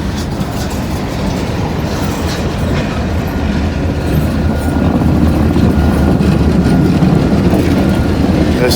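An old Burlington Northern SD42 diesel locomotive rolls past close by with a loud, steady engine rumble and rhythmic wheel clatter that grows heavier toward the end.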